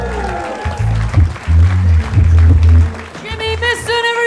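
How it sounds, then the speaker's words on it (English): Audience applause at a live standup comedy competition heat after a comedian's set, a short burst of clapping beneath a host's loud amplified voice, with music rising toward the end. "Keep the applause going."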